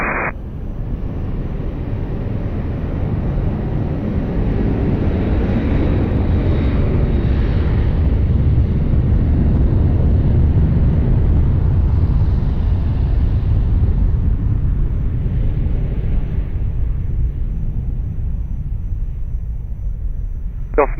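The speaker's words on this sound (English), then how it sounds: "Clear for take off on your frequency, Ryanair 2 Golf Bravo." A Ryanair airliner takes off from runway 20 at Lisbon Airport, producing a continuous loud jet roar and low rumble that swells, holds for a long stretch, then eases slightly near the end.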